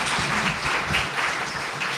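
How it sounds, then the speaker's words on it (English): Audience applauding a presenter at a marketing talk on AI, a short burst of steady clapping filling the room with a faint voice underneath. "Let's give Michael a round of applause."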